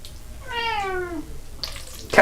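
A house cat meows once, a clear drawn-out cry in a kitchen where pasta with vodka roast pepper sauce is being plated, followed by faint clinks and a brief splash of running tap water.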